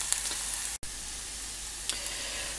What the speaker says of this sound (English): the first step is to start frying your onions and caramelize them